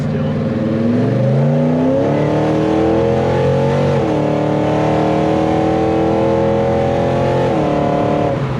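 A Chevelle pulls hard from a standstill, its engine note climbing steadily through gear changes with a brief dip and rise, loud and continuous, heard from inside the car with no talking.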